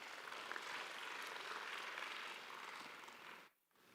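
An audience at a university convocation ceremony in Bangalore applauds with a steady, dense wash of clapping that stays even and then drops off near the end.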